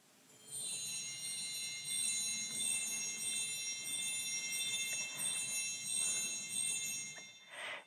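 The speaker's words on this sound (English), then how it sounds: "This is called a Zimbelstern" Small bells of a Zimbelstern stop on a Fisk Opus 134 pipe organ in a Presbyterian church, a bright continuous shimmer of high tinkling bells ringing steadily for several seconds in a reverberant room, alone.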